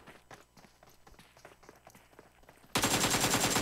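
AKM rifle fire in a competitive battle royale esports grand final match. Faint ticking footsteps lead into a sudden, loud, sustained burst of automatic shots near the end.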